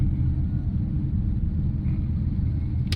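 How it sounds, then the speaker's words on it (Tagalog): A tricycle on a flooded Metro Manila street during a typhoon passes close by, its low engine rumble and sloshing steady and loud throughout, with a brief higher click near the end. "Ayun yung tricycle"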